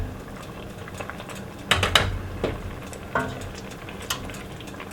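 A water bath canner holds jars of carrot cake jam in boiling water, giving a steady low bubbling with scattered louder pops and clatters of jars or pot.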